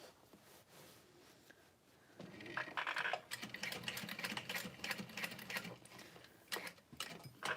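A sewing machine runs in quick bursts while stitching a custom-ordered leather Emily bag, with a rapid, uneven mechanical chatter that starts after a quiet stretch and continues, stopping and restarting, close by.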